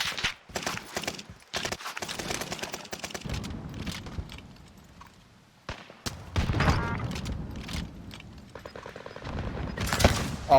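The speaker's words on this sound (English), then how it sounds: "He's shooting other people" Rapid gunfire from a video game crackles in dense bursts and scattered single shots, fading out, then returning with a heavier volley near the end, loud and close with no talk over it.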